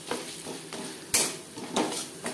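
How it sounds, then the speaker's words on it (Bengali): Boiled mashed potato being stirred with spices in a pan for egg chops, heard as a few soft scraping stir strokes and light utensil knocks against the pan, close and fairly quiet, with no talking. "মশলার সাথে আলু বেশ ভালো করে মিক্স করে দেব"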